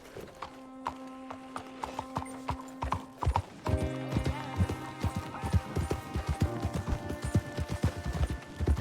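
Horses galloping in Red Dead Redemption 2, a rapid, steady rhythm of loud clip-clop hoofbeats close by that picks up pace, over a sustained musical score with a brief neigh, and no talking.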